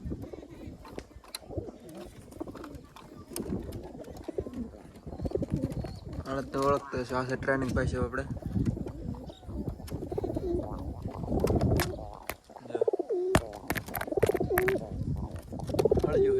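Many pigeons, including fancy breeds, coo in low, rolling murmurs throughout while someone talks nearby, with occasional flutters and clattering.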